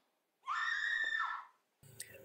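A girl's long, high scream of about a second in a film rings out alone, followed by a short burst of other film sound.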